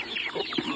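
Chickens cluck on a small farm in a few short, close, moderately loud clucks one after another, with no talking over them.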